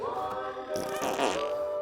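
A cartoon fart sound effect from an animated movie, a loud, drawn-out brassy rasp with wavering pitch lasting under two seconds, heard alone with no talk.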